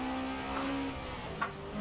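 Volkswagen Karmann Ghia engine droning steadily in Forza Horizon 4 as the car is driven off-road, a sustained mid-level hum with a brief sharper rise near the end, no voices.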